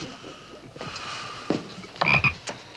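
A frog croaks a few times in short, close, rasping bursts, with a louder cluster near the end. No one speaks.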